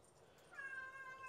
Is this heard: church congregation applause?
no